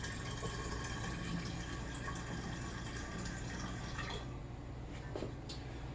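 Yeast starter liquid poured slowly from a flask, a soft continuous trickle and splash close by, with a few drips toward the end.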